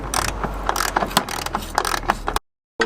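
Rapid clicking of a ratchet undoing engine mount bolts on a VW Golf GTI Mk7, close and busy with metallic mechanical noise, cutting off abruptly near the end.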